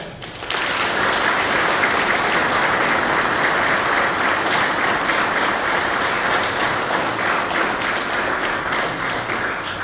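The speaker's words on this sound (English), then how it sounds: "please join me in a round of applause for Command Master Chief John D.T. Tucker and his family" A round of applause at a Navy retirement ceremony in Bahrain for a Command Master Chief and his family, a dense, even wash of clapping from a large crowd that starts abruptly and holds steady, no voices.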